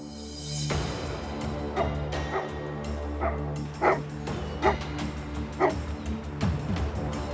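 A dog lets out a series of short, sharp barks at a steady pace, fairly close, over a low continuous hum.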